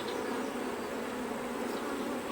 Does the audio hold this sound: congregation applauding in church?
no